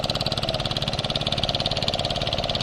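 Motor of a traditional wooden fishing boat heading out from the beach to open sea, a steady, loud, rhythmic engine chug that pulses evenly throughout with no pauses.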